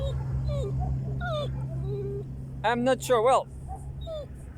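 A dog whimpers and yips in rising, wavering whines, then breaks into a cluster of sharp high yelps near the end, close and fairly loud over a steady low hum, with brief speech mixed in.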